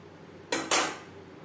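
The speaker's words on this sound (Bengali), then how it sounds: "গ্রেভির সাথে আলু চিকেন বেশ ভালো করে মিক্সড করে দেব" A spoon stirs potato chicken curry with gravy in a cooking pot, giving two short, close metallic scrapes or clanks about a fifth of a second apart, with no talking.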